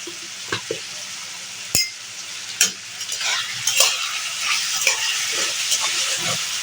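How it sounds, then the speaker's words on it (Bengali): Salted potatoes frying crisp in a pan, a sizzling hiss that builds and thickens, broken by sharp clinks and scrapes of a spatula stirring against the metal. "আলুগুলো মচমচা করে ভেজে নেব"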